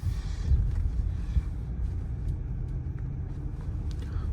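Steady low road rumble and tire noise inside a 2021 Audi Q8 S-Line with about 50k miles while driving, a smooth even drone with faint wind hiss and occasional light ticks.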